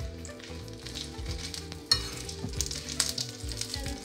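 Dried chillies fry in hot oil with a steady, crackling sizzle and scattered pops, broken by stirring scrapes and one sharp clank, close and continuous with no voices.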